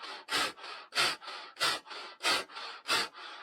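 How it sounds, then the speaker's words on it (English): Kapalabhati yoga breathing: a rhythmic run of six forceful, loud exhales through the nose, each short sharp puff followed by a softer, quieter passive inhale, steady and close. "Kapalabhati breathing looks and sounds like this."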